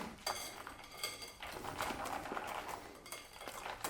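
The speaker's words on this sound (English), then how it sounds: "Have a whisk. And I'm just going to combine" A hand whisk clinks rapidly against a bowl while juice, cream and milk are combined into eggs and sugar for an orange flan, a busy close metallic rattle running throughout.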